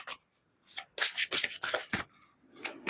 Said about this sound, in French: on va prendre une carte des clés du destin pour démarrer